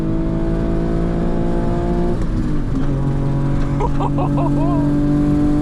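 A 1994 Ford Probe with a 2.5 V6 engine, a loud, close steady engine drone inside the car that climbs in pitch as it revs and accelerates, with brief speech near the end.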